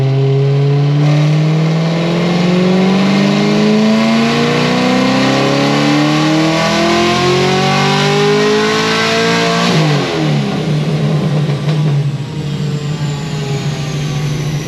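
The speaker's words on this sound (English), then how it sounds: "This blower is loud." A supercharged Pontiac GXP engine with a loud F1A-94 blower revs hard, its whine and exhaust rising steadily in pitch for about ten seconds before dropping back, very loud and close with no voices.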